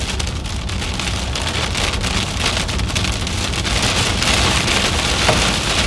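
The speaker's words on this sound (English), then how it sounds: "There's the hail." Hail and heavy rain pound a car during a Midwest supercell storm, a dense, steady drumming of impacts on the roof and windows with no pauses.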